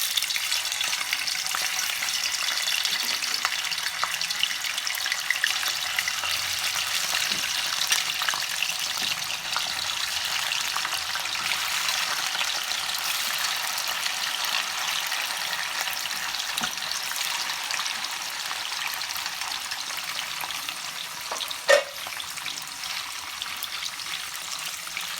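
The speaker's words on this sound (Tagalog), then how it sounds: "Painitin lang po natin ng mantika at atin na pong ipa-fry ang tofu or tokwa." Tofu frying in hot cooking oil gives a steady, dense sizzle that stays even throughout, close and unbroken, with one faint tap near the end and no talking.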